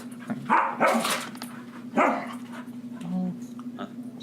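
A dog gives a few loud, close barks in short bursts over a steady background hum, with brief vocal sounds in between.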